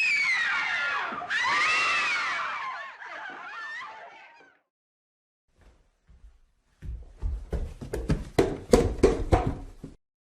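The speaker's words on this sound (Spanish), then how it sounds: "solo se escucharon gritos" Screaming in a psychiatric center in a dramatized horror story: a long, loud, warbling scream that fades out, then silence, followed by a burst of harsh, choppy cries and snickering sounds.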